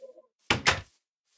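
A door opening or closing in the video game Minecraft, two quick close thumps in succession, loud and alone after a brief faint tone.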